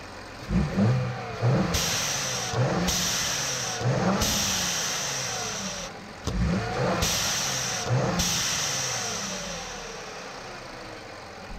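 A Ford Fusion Sport engine fitted with a blow-off valve adapter idles steadily with a hiss, then is revved repeatedly in sharp bursts, each climbing quickly before dropping back to idle.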